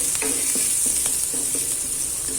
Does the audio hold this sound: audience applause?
no